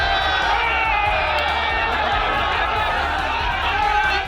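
Hundreds of protesters carrying saffron flags chant slogans as they march toward a tomb, a dense, steady roar of crowd voices and cheering filling the scene at close range without pause.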